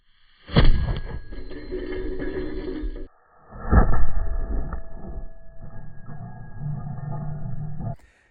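A homemade McLennan cannon fires a can full of rocks, giving two loud, booming blasts a few seconds apart, each followed by a sustained roaring rumble that holds steady before cutting off abruptly.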